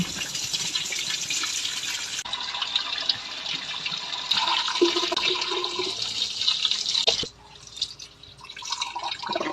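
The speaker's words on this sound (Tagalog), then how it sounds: "Ang final banlaw ay yung alkaline water pa." Water splashes and pours while a container is rinsed, with running, dripping water continuing steadily for most of the time before a brief drop and then more trickling and splashing.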